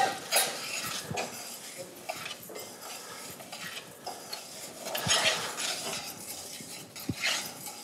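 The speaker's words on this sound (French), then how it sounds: "à graisser le riz" Risotto rice is stirred in fat in a pan, with soft repeated scraping and clinking of the utensil against the pan, fairly quiet and close, no talking.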